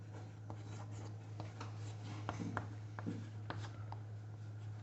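Faint pen strokes and taps on a writing surface as an example sentence is written out, soft scratches over a steady low hum.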